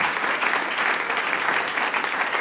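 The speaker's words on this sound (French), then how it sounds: "Nous allons applaudir ce matin." A congregation at a church service breaks into sustained applause, a dense, steady wash of many hands clapping at even loudness throughout, with no voices standing out.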